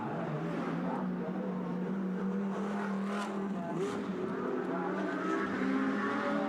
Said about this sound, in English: the Brabham growls into the pit lane as well